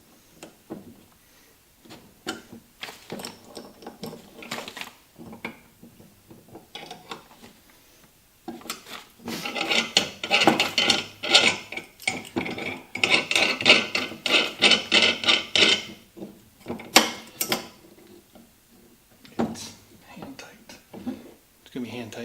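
Tightening parts of a Fly Racing dirt bike engine stand, with close metallic clinks, rattles and scraping of metal parts, busier in the middle, plus occasional handling knocks and intermittent talk.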